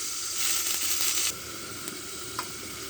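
Crabs sizzle in a hot pan with salt and turmeric, a loud, bright hiss that drops to a quieter steady crackle partway through, with a couple of small clicks and no talking.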